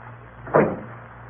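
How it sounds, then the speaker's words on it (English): Door shut as a radio drama sound effect in an old broadcast: a single short thud heard alone over a faint background hum. "Close the door."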